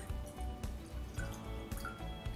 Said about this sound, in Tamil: 1:3 ரேஷியோவில் தண்ணி ஆட் பண்ணுறேன்.